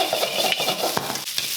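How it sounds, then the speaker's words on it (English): Onion stir-fried in a hot wok for a leftover Christmas turkey stir-fry: steady sizzling with brisk scraping and tossing strokes, close and fairly loud, no voices. "Just break up any clumps of onion. Just keep that tummy and the head movement going, just to keep the heat of the wok moving around nicely."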